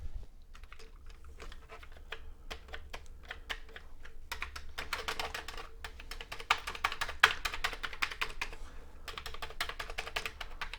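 Typing on a Commodore VIC-20 keyboard, a steady run of sharp plastic key clicks that speeds up into dense bursts, close and clear over a low hum with no talking.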